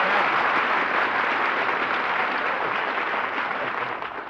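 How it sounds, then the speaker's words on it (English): A studio audience at a comedy radio show breaks into loud, dense applause, a thick wash of clapping that holds steady throughout before easing slightly at the very end. "applause is food for an actor, so thanks for the lunch"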